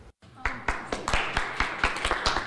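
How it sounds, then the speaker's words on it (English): A warm round of applause greets Syrian refugee Rafaihi Hamo, a scientist: a string of sharp, fairly regular hand claps, close and moderately loud, picking up after a brief silent gap. "Syrian refugee Rafaihi Hamo greeted by a warm round of applause"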